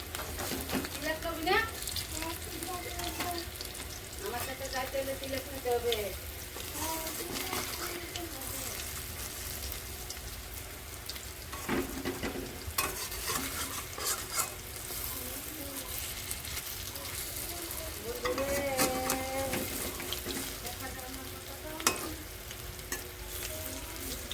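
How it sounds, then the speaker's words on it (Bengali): Pea lentil fritters fry in hot oil with a steady, continuous sizzle, broken by occasional scrapes and clinks as they are stirred and turned over, with a few scattered moments of voice in the background. "উল্টে পাল্টে ভালো করে একটু লাল লাল করে ভেজে নামিয়ে নেব"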